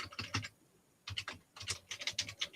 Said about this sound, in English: So let's type this in.